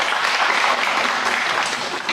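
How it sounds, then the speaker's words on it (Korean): An audience at a commemorative symposium claps warmly to welcome a speaker to the stage, a dense, even burst of applause at close range with no voices over it. "박수로 맞아주세요"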